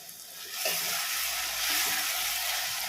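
Tomatoes sauté for a prawn curry, hissing and sizzling steadily in a hot pan with a continuous bright crackle and an occasional soft stir.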